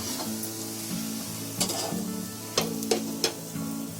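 A fasting-style masala dosa sizzles on a hot griddle with a steady crackling fry, punctuated by a few sharp spatula scrapes and taps.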